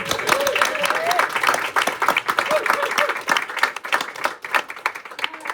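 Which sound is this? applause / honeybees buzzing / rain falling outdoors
applause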